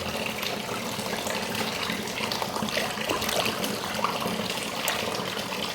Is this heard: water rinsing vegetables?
yes